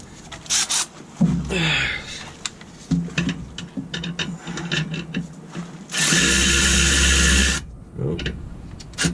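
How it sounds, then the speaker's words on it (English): Ratchet tightening a bolt on a Mercedes during repair work: rapid clicking pawl bursts in several runs, with a longer loud whirring stretch near the end, close up and with no speech. "do this one with the ratchet"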